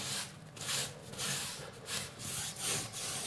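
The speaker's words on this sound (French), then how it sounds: "Un petit coup de pinceau par-dessus, histoire d'écraser et de pousser un peu le produit qui est derrière" A paintbrush rubs Webersys Aqua Stop waterproofing product over a surface in steady back-and-forth strokes, a soft repeated scrubbing close by with no talk.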